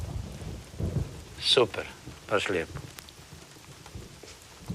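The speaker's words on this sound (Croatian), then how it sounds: "Ko se još veseli kiši, grmljavini, nevremenu?" Thunderstorm with rain: a steady hiss of rainfall with rumbles of thunder, heard under people chatting nearby.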